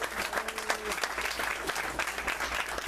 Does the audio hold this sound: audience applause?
yes